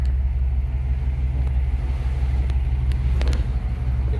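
A stock 1955 Mercury Montclair two-door hardtop engine idles steadily just after starting, a continuous low rumble throughout with no speech.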